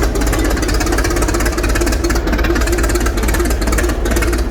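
The engine of a small ride-on rail car at a yard show in Long Beach, California, runs with a loud, close, continuous chugging rumble throughout.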